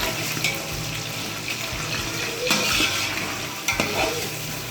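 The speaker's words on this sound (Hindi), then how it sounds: "सबसे पहले हम इसमें चिकन डालेंगे और इसको तकरीबन 5 मिनट के लिए भूनेंगे," Chicken pieces browning in hot oil for Chinese fried rice, with a steady broadband sizzle and repeated scraping stirs of a spatula across the pan, close and fairly loud, no talking.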